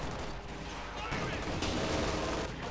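Anti-tank gun fire in the real-time strategy game Company of Heroes 2, a dense rumbling barrage of blasts with a sharp crack near the middle, layered over continuous battle noise.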